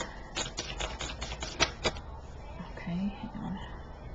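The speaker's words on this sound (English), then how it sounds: "I usually finish the shuffle, but we have a flipper." Tarot cards being shuffled by hand, a quick run of crisp riffling flicks followed by softer handling, with a person speaking briefly close by.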